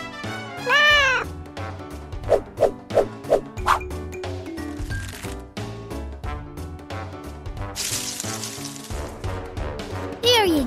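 A cartoon cat meows in a children's game, with several short rising cries in a quick row amid bright music, sound effects and a character's voice.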